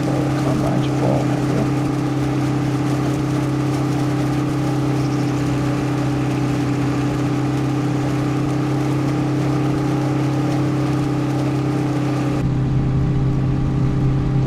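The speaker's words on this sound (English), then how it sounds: "It is a loud tractor, that's for sure." A loud tractor engine drones steadily in the cab during corn harvest and silage work, a constant heavy tonal rumble with a slight shift near the end, continuous for fourteen seconds.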